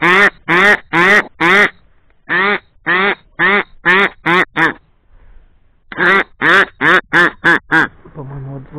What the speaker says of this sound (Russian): Вон 2 крикоша пошли.